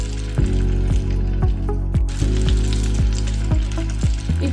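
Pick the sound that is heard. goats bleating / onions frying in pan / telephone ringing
onions frying in pan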